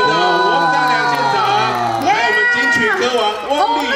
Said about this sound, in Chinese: 掌声欢迎我们的王张良县长